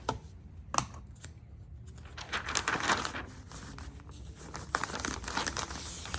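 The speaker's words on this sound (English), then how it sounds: "And I got my handy dandy tape." Packing tape is pulled and pressed onto crinkly shipping paper wrapped around clothes, giving close, irregular crackling and rustling with a few sharper tearing snaps and no talk.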